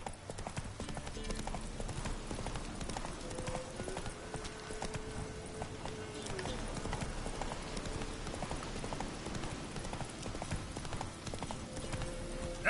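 Horse hooves gallop in The Witcher 3 game, a steady, rhythmic clip-clop running throughout at moderate level, with a brief spoken line over the hoofbeats.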